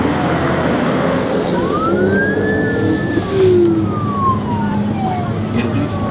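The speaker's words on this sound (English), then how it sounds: "There's an ambulance hanging out here." An ambulance siren wails, gliding up and down in pitch, carrying over steady road and engine rumble, moderately loud and fairly close.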